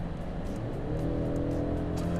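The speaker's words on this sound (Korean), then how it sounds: "스포츠 모드로 바꿔서 차선을 바꾸고 급가속을 한번 해볼게요" A Mercedes-Benz E-Class in sport mode accelerates hard on a highway, its engine a steady, dense, rising drone heard from inside the cabin with road and wind noise underneath.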